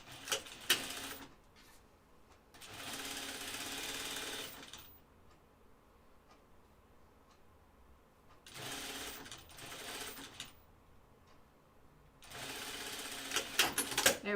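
A sewing machine runs in three separate bursts while stitching a quarter-inch seam on an anorak. Each burst is a loud, fast mechanical whir, with quieter handling pauses between them.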